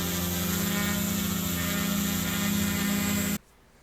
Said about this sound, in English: take a listen to it here. It's not obnoxious. You know, it's still a drone.